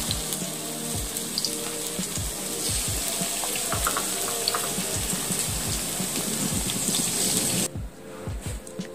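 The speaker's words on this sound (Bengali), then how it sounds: "সবগুলি আমি এভাবে ভেজে নেব।" Cauliflower and Malabar spinach pakoras fry in oil with a dense, crackling bubble and hiss, close and continuous, broken by small pops. The sizzle drops off sharply near the end.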